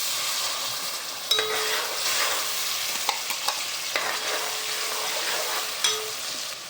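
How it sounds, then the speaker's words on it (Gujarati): Spice masala frying in hot oil for a Gujarati boiled vegetable curry: a steady close sizzle and crackle fills the clip, with a few sharper stirring clicks and scrapes breaking through. "તેલ થઈ જાય પછી આ મસાલો એડ કરી દેવાનો"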